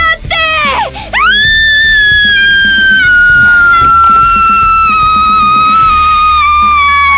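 A cartoon character screams shrilly: a short cry, then one long sustained piercing shriek held loud for several seconds, alone without talk.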